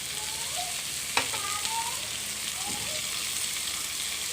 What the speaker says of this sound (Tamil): இந்த வெங்காயத்துக்கு கூடயே இந்த இஞ்சி பூண்டு நம்ம வதக்கிடணும்